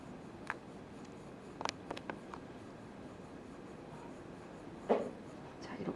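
Pencil shading on paper while drawing a morning glory, a quiet scratchy scraping with intermittent strokes and a few light taps, close and soft.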